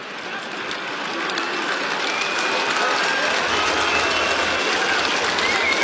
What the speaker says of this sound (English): And a warm applause for Patrick Cripps, who brings himself to the bench